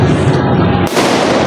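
Firecrackers going off during New Year celebrations, a dense crackling roar of loud bursts filling the whole moment, up close and continuous.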